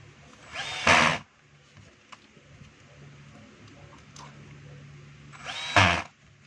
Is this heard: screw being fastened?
yes